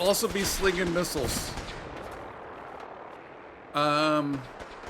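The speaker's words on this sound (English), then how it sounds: "They also be slinging missiles." Missile fire in the Fallout 4 video game: bursts of loud, booming blasts at the start, then a strong, sustained tonal burst near the end, with a faint rumble in between.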